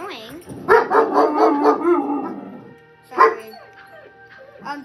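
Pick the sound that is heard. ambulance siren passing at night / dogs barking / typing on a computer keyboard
dogs barking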